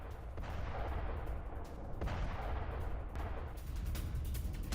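Artillery fire on Hezbollah targets near residential areas in southern Lebanon, heard as a continuous low rumble with several dull booms in a row, distant and muffled.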